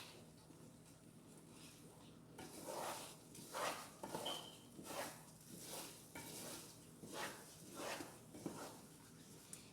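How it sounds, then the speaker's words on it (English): A spoon stirs praline candy mixture in a pot, scraping and clinking in a steady back-and-forth rhythm at close range, with a faint bubbling sizzle underneath and no one talking. "But you want to continue to stir."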